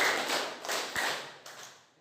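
A group at a teachers' jamboree claps together in four spaced, reverberant bursts, each a soft wash of many hands, with the last fading out.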